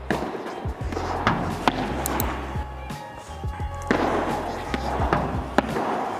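Padel ball struck back and forth during a training rally on a glass-walled court, sharp hits and bounces spaced irregularly, with voices talking between shots.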